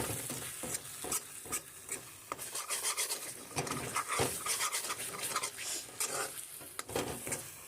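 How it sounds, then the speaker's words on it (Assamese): Paneer fries with chili powder and garam masala in a pan, stirred continuously so a utensil scrapes and rasps in uneven strokes over a soft sizzle, close and without talk. "এইখিনি মই লৰাই লৰাই অলপ দেৰি ভাজি ল'লোঁ"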